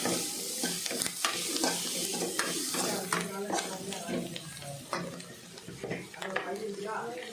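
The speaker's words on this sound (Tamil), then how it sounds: "மஞ்சத்தூள் சேர்த்து லைட் வதக்கிடுவோம்" Food sizzles and crackles steadily in a hot pan as onions with turmeric sauté for egg chukka, with frequent scraping and stirring clatters from a utensil, close and busy throughout.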